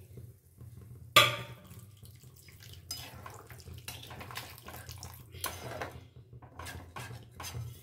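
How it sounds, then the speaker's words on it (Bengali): Hot water is poured into a pan of spiced oil while cooking potato curry, starting with a sudden splashing sizzle followed by a soft, steady bubbling and intermittent clinks, quiet and close. "পরিমাণ মতন জলটা এর মধ্যে অ্যাড করে দেব। গরম জল দিলে এই তেলটা উঠে যায়"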